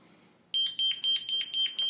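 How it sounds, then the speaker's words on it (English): A home alarm system in a rental house in Norfolk, Virginia gives a loud, bright, high-pitched electronic beep, repeating about six times in a quick, steady rhythm after a short quiet start, with no voices. "That's just the alarm system"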